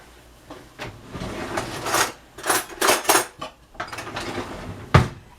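A fork clinks and scrapes rapidly against a bowl while whisking, in uneven bursts of metallic rattling with brief pauses and a sharper knock near the end.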